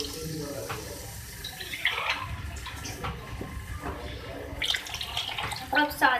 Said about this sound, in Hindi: तो अब इसमें हम 3 गिलास पानी ऐड करेंगे।